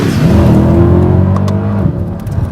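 A 2010 Mercedes-Benz E63 AMG engine revs loudly up close, a deep sustained roar with strong harmonic drone that eases off near the end into lower burbling.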